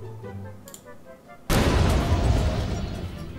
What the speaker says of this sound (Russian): Здание взорвалось, бомба нет